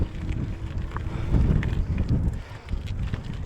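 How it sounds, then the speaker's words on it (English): Strong headwind buffets the microphone while cycling on a gravel bike up a steep mountain road, a loud continuous roar of gusts that rises and falls throughout. "Wow, this wind."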